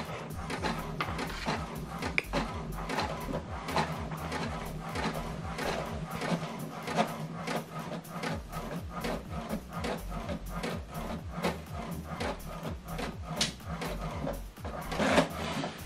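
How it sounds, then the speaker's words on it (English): An HP printer prints a document sent from a mobile phone, a steady run of rapid mechanical clicks and feed noises close by, with a brief louder clunk near the end and no talking. "Okay, the second one is printing."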